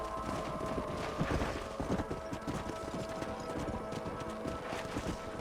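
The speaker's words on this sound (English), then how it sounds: "Vai, cavalo." Horse hooves clip-clopping at a steady gallop in the Red Dead Redemption video game, a continuous rhythmic beat under a busy, dense game soundscape without clear talk.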